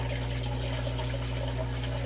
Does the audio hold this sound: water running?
yes